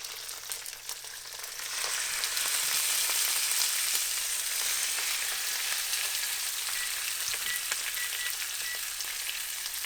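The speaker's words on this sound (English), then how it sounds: "And that is the sizzle that we want to know that this is working." Steady, loud crackling sizzle of chicken skin frying in hot oil, rising after a couple of seconds and holding continuously.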